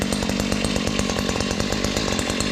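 A Stihl KM94R Kombi engine runs with zero choke, a loud, close, steady two-stroke putter with a fast regular pulse throughout.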